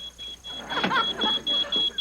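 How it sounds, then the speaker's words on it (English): A smoke alarm beeps in a house in a rhythmic series of high, piercing pulses. Other sounds pass underneath in the middle. "That sounds like the smoke alarm."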